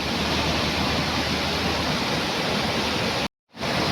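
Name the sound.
waterfall on a flowing river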